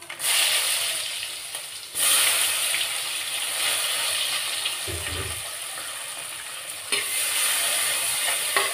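Chopped onions and curry leaves sauté in hot oil with fenugreek, cumin and mustard seeds for a fish curry, giving a steady close sizzle and fry with occasional stirring scrapes, no talking.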